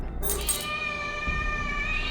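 A cat meows in the horror video game Layers of Fear, a drawn-out tonal cry that holds steadily over quiet ambient game sound after a brief higher chime at the start.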